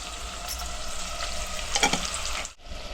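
Spices stirred into a frying cauliflower, peas and potato curry: continuous close sizzle with a scraping stir stroke near the middle, then a sudden brief drop before the frying resumes; no speech.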